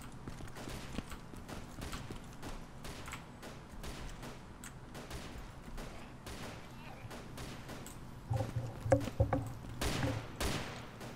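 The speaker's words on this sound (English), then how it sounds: "Oh, someone's shooting." Gunfire in the video game DayZ: a series of sharp, distant shots cracking irregularly throughout, with a denser cluster of louder reports near the end.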